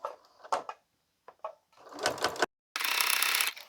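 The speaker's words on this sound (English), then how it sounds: "I'm going to stitch around a 1/2 inches distance." Home sewing machine stitching binding on a fall panel quilt, short bursts of motor whir separated by pauses, building to a longer steady run near the end, close and alone.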